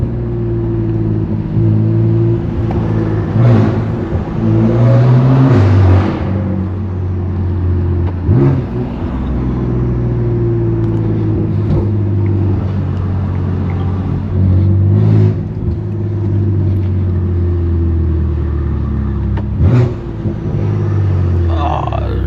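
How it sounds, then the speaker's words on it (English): A BMW F80 M3 Competition with straight pipe exhaust and turbos rumbling and droning loudly while cruising through city traffic, with brief revs and whooshes, while people talk over it. "You could hear the turbos."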